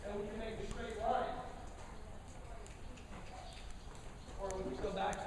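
A horse being driven on a line moves along the ground, soft irregular hoof thuds close by, with a person talking over them and birds cooing faintly in the background.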